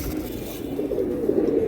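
Gola pigeons at a loft, a pair of quality birds, give a low steady cooing that murmurs continuously throughout, fairly close and moderately loud.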